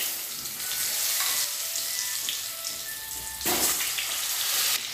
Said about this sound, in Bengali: এবার পটলগুলোকে ভালো করে ভেজে নেব।